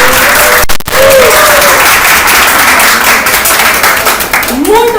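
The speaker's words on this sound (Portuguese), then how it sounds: "todos uma salva de palmas para os nossos entrevistados!" Studio audience applauding the interviewees at the end of a Brazilian talk-show episode about administration in electrical engineering, a loud, dense burst of clapping with whoops and cheers rising over it.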